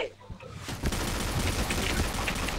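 Rapid gunfire from the first-person shooter Point Blank crackles in dense bursts of overlapping shots and booms, fairly loud and continuous after a short lead-in, with a player's voice faintly underneath.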